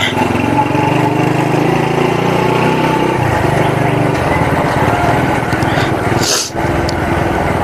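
A Honda Win motorcycle engine idles steadily and loudly up close, with a constant low rumble throughout and a brief dip near the end.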